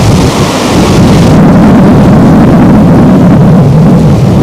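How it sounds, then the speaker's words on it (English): Strong wind roars and buffets a microphone continuously, a loud low rumble with gusty surges and no speech. "You can hear the wind roaring past."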